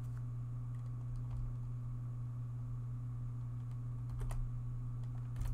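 A password is typed on a computer keyboard as a few light, scattered key taps over a steady electrical hum, fairly close and quiet, with no voices.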